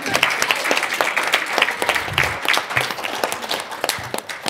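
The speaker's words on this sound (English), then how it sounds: "So we can just get another round of applause for that." Dense applause from an audience at a university research presentation, many hands clapping steadily and close throughout, with a few voices mixed faintly underneath.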